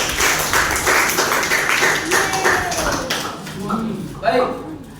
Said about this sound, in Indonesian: Tepuk tangan untuk kelompok 4.